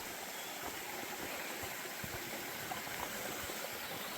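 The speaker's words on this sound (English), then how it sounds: "I could hear the water running all night" Water runs steadily in a stream near a campsite, a soft, even rushing hiss that continues unbroken throughout, faint and without voices.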